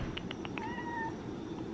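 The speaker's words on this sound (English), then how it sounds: "Who's this cute kitty?" A house cat meows close by: four short, bright meows in quick succession, then one longer drawn-out meow, all over a low, steady room hum with no talking.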